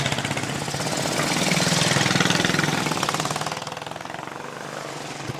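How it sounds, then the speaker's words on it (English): A group of British motorcycles fire up and run together at a rally departure from Lyme Regis, a dense, loud rumble of many engines that swells then eases slightly, with no talk. "that's the first 50 motorcycles. If you start your engines, please"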